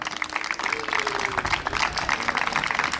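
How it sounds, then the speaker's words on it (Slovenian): Audience applause at a Jesenice community event, a steady wash of clapping from a crowd that continues throughout, with a voice briefly audible over it. "ampak aplavz zanj vseeno"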